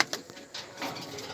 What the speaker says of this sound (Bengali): দেখেন এখানে কতগুলো কবুতর বসে আছে।